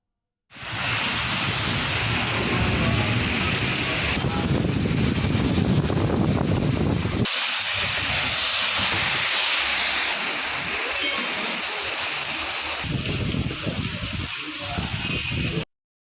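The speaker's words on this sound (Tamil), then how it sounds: "இரண்டு மணி நேரம் இடி மின்னலுடன் கூடிய பலத்த மழை பெய்தது" Heavy rain during a thunderstorm, a dense roaring downpour that holds throughout, shifting in intensity with a deep rumble under the steady hiss.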